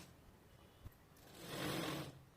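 A sewing machine stitches along the edge of a piece of cloth, a soft hum that rises into a steady whirring run near the end, close by, with no voices.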